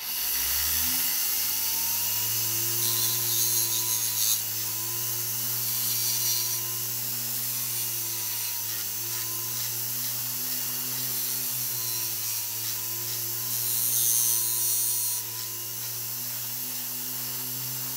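A power honing machine sharpens a small V carving tool with a steady high-pitched motor whine and strong harmonics, broken now and then by bursts of brighter grinding hiss as the blade meets the wheel.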